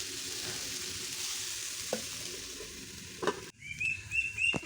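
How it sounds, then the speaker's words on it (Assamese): Steady sizzling of food frying in a pan, with a few scraping stirs of a utensil and a brief metallic clatter near the end. "এইটো ধুনীয়াকৈ এতিয়া লৰাই দিম, মিলাই ল'ম।"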